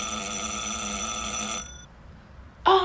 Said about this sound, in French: Oh, j'aime trop les sonneries.